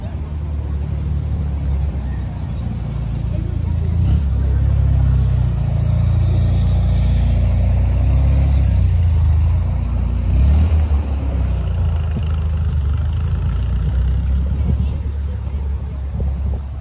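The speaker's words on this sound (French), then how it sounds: "Une Ford GT40 dans Paris." A Ford GT40 engine in a Paris street gives a deep, loud rumble that swells into a revving surge midway and then settles, with a person talking over it.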